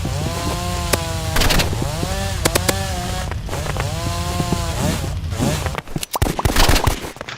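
A chainsaw in a video game buzzes with rising and falling revs in repeated bursts, loud and close, ending in rough crackling pops.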